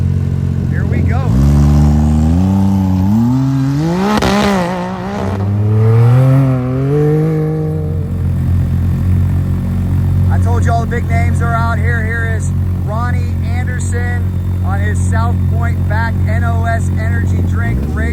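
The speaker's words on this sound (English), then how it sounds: "Tirana Racing in his Can-Am. See what he can do" A Can-Am off-road race vehicle in a Best in the Desert race: its engine revs loudly, rising and falling for several seconds, then settles into a steady drone under a commentator's voice.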